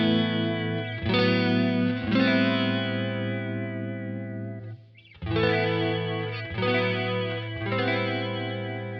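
Electric guitar through a BOSS CE-1 chorus profile on a Kemper Profiler, playing sustained, shimmering chords that swell and change several times, with a brief dip near the middle, loud and alone.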